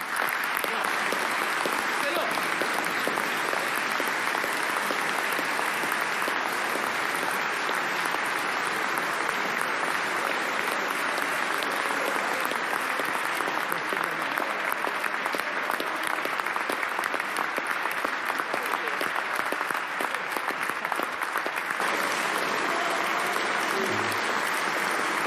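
Sustained applause in tribute to the police from an assembly audience, a continuous broadband patter that stays even and moderately distant throughout, with faint voices mixed in.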